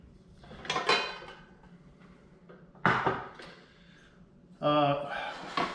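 A cast iron pan and a cast iron Dutch oven are handled, with a few heavy metallic knocks and clanks spaced a couple of seconds apart, close by, under a voice speaking.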